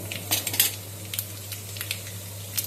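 Chana dal and mustard seeds fry in a pan, giving scattered crackling pops and light clinks of a utensil over a steady low hum, with no talk.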